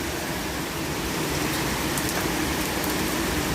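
Heavy thunderstorm downpour in St. Petersburg, a dense, steady hiss of rain pouring down without pause, close and loud throughout.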